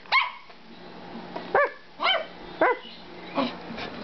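A dog barks on command in a sequence of roughly six sharp, close barks spaced unevenly over a few seconds, some yappy and short, against a quiet background.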